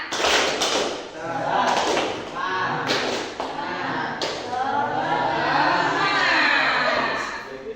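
A group of schoolchildren chant the Indonesian tepuk semangat routine, punctuating it with a few sharp, sporadic bursts of clapping and thumping, their voices dominating throughout.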